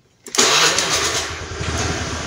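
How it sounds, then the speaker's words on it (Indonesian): A Honda Vario 110 carburetor scooter engine cranks and catches after a brief silence, then settles into a steady, close mid-pitched idle with no voices. "Yang pertama adalah motor dinyalakan dulu."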